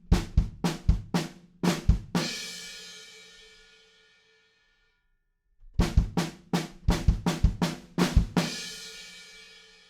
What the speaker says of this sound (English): we're going to add hi-hats playing quarter notes, but just before that, a little fill.